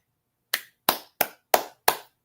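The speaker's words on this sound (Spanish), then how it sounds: "Estoy aplaudiendo porque tratas de estudiar medicina" One person claps five times alone, sharp close slaps spaced evenly about a third of a second apart against silence.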